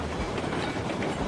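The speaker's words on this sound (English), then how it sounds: "the level 7 train" Mastodon level 7 locomotive from the Railroads Online video game rolling on rails with a string of cars, a steady dense rumble and clatter that fills the whole moment without pause.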